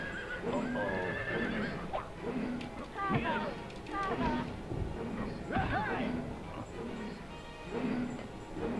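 Horse neighs and whinnies from the video game Dream Story, with clip-clop hooves, recur in short bursts throughout under continuous talking over game music.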